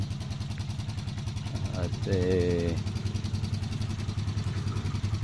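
A new motorcycle's engine runs steadily during break-in on a ride, a close, even putter that swells briefly midway, with someone talking over it.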